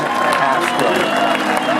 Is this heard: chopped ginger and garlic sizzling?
no